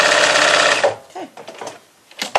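A sewing machine stitching a large fabric market bag runs in a loud, fast continuous whir for just under a second, then stops, leaving faint handling clicks and rustles.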